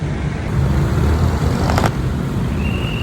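Road traffic on Sukat Highway in Parañaque City rolls past as a steady, fairly loud roar of cars and motor vehicles, with no voices.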